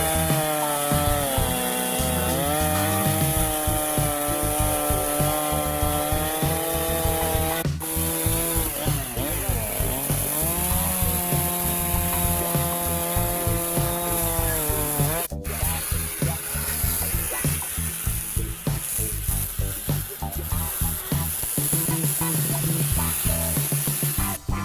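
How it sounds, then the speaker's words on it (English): A chainsaw cuts logs to length for a log picnic table, running steadily and loudly throughout with a shifting engine drone as it works through the wood. "we're gonna take a minute and cut these down to length so he can go ahead and finish out the ends. We're gonna use our chainsaw for that"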